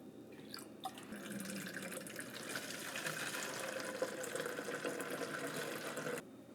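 Ammonia poured in a steady stream into a container to mix a cleaning solution for telegraph key parts, a Cedar Rapids bug. A continuous, close splashing liquid sound runs for about five seconds, then stops.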